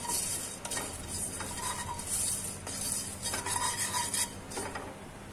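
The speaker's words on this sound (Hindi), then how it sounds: "इसको अच्छे से चलाते हुए हम ड्राई रोस्ट कर लेंगे" Whole spices dry roasting in a kadhai for a restaurant-style kadhai paneer, stirred with a spoon: a steady dry scraping and rattling with light clinks against the metal, repeating in short bursts, close and fairly quiet, with no talking.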